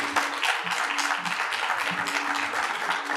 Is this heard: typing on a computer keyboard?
no